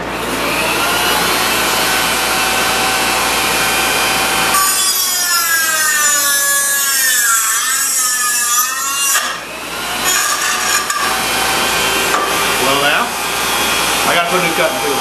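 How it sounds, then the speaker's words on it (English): Dremel rotary tool with a cutting wheel grinding into a well casing, a loud high whine that rises and wavers as it bites, close and continuous. "I got my Dremel with a cutting tool on it."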